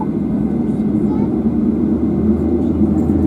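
Steady, loud cabin roar of a Ryanair Boeing 737-800 on a London Stansted to Dublin flight, a constant low engine and airflow drone that fills the whole stretch without letting up.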